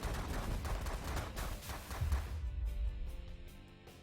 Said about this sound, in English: I'm gonna do a couple of rounds with the minigun.